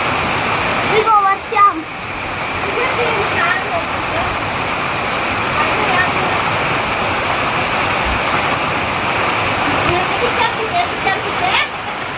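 Heavy rain pours in a dense, steady roar around a house during a storm, with a few brief voices speaking over it.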